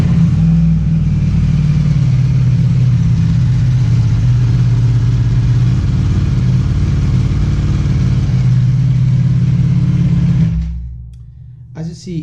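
A Ducati Panigale V4 motorcycle with its stock catalyzer exhaust runs loud and close, holding a steady, throaty drone before cutting off abruptly near the end, leaving near silence with a faint trailing noise.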